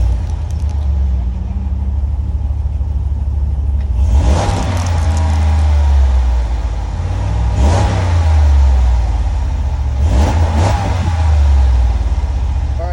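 A 2022 Jeep Wagoneer's 5.7 liter Hemi V8 idles with a deep, steady rumble, then opens up in three sharp revs at even intervals that swell and fall back, close and loud, with no talk.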